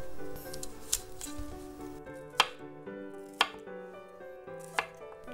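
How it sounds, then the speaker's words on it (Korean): A knife taps steadily on a cutting board as broccoli is chopped very finely, giving soft repeated strokes with a few sharper knocks, close and clear over faint background music. "오늘 브로콜리는요, 다른 때보다 아주 잘게 잘라주겠습니다"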